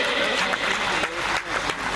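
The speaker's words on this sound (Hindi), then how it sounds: "जोरदार तालियां बजाइए" Audience applause at a Bhagavat Katha religious gathering held at a cow shelter, a brief steady wash of clapping mixed with crowd noise.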